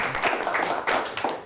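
Brief burst of clapping from a small studio audience greeting a student quiz team on a Christian schools quiz show, uneven and moderately loud, lasting only a moment.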